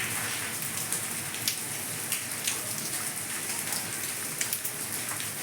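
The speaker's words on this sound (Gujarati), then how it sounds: "બહાર જો મસ્ત વરસાદ ચાલુ છે" Heavy monsoon rain pours steadily in Kodinar, Gujarat, a dense, even hiss of drops with occasional sharper splashes and no voices.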